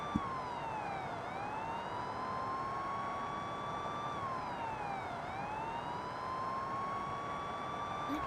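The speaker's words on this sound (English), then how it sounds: "let you guys have the destruction and chaos along with the sound of sirens" A police siren in the video game BeamNG.drive wails steadily, its pitch sweeping down and up in slow cycles, over a constant engine-like rumble.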